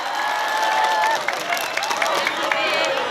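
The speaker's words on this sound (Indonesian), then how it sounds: "Tepuk tangan atau gemil." Applause and a cheering crowd at a Sundanese religious lecture for a Maulid Nabi gathering, with sustained clapping and scattered voices filling the hall at moderate distance.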